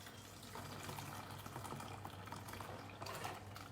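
Pasta nests simmer in water inside a Thermomix TM6, giving a soft, continuous bubbling and watery hiss, quiet and close throughout.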